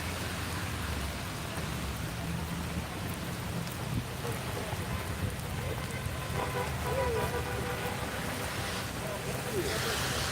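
Steady rain falling outdoors during a thunderstorm, a dense continuous patter at even loudness throughout, close and with no speech.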